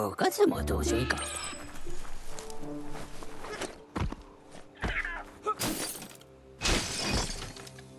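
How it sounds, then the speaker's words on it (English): A box smashed apart in the Biomutant video game, several sharp cracking and shattering impacts with debris clatter, mixed with footsteps and game voices talking. "You shouldn't worry about smashing up the box."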